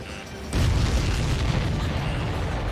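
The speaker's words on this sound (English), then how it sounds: "Did you see that explosion? Looks like that's one of them down." A deep, rumbling explosion of a supply ship hit by a missile in Ace Combat 7 bursts in suddenly and keeps roaring loudly to the end.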